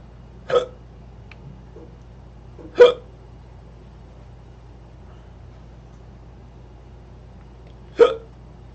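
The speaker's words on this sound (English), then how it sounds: "I got the hiccups." Three sharp, separate hiccups from a person, spaced irregularly over several seconds, each a brief loud catch against a quiet, faintly humming background.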